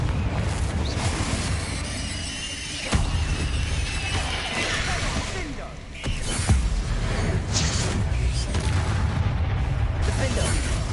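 Spell explosions and magical impacts from Hogwarts Legacy burst in repeated loud booms and crashes with creaking, clattering debris, a dense continuous battle din with sharp hits near 3 and 6 seconds.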